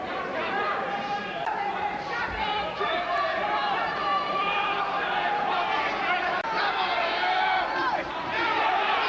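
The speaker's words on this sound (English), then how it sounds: "Crowd absolutely loving this here." Boxing crowd at a Chris Pyatt versus Sumbu Kalambay fight, a dense steady roar of chatter and cheering that holds at an even, loud level throughout, with excited shouts rising out of the mass of voices.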